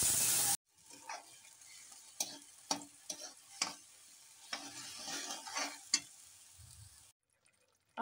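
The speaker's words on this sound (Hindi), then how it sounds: "टमाटर, मिर्चा, अदरक पीस के रखे हैं उसको डाल देंगे।" Ground tomato, green chili and ginger paste hits hot oil seasoned with cinnamon, five-spice and asafoetida for a gram-flour curry, sizzling close up with irregular scraping stirs and clinks, then going quiet.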